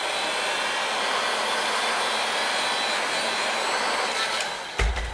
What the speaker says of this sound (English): you're going to want to just take your heat gun,